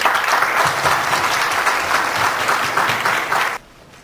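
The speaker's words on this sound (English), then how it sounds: "Let's give them another round of applause." Sustained applause from an audience at a business forum, a dense even wash of many hands clapping that holds steady for several seconds and then cuts off abruptly.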